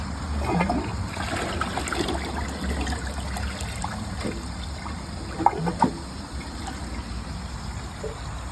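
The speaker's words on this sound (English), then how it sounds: "I'm gonna give it another flush and empty out the tank" A Niagara Stealth toilet, clogged, is flushed again to empty its tank, giving a continuous trickling, gurgling run of water close by with a few sharper splashes partway through.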